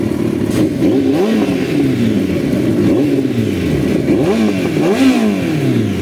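A Kawasaki ZX14R 1441cc sport motorcycle without a catalytic converter revs again and again in quick swelling bursts, each rising and falling in pitch, loud and close with a rough mechanical rumble.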